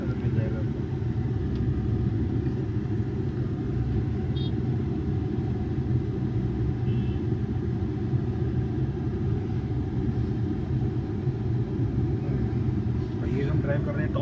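Cabin sound from a mid-variant Tata Nexon EV on the move: steady low road rumble and tyre noise, even and continuous, with no engine note, while people talk inside.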